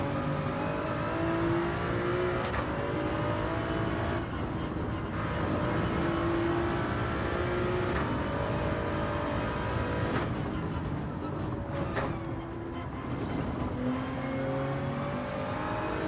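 Race car engines roar in a Gran Turismo 7 online race, a sustained whining drone with pitch sweeps through gear changes and a few sharp shifts, steady and loud with no voices.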